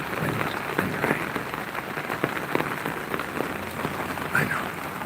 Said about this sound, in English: Here's some good real wind and rain.